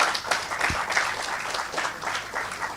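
Audience at a global halal travel summit claps for an award winner, a moderate, steady patter of many hands heard from a short distance, without speech over it.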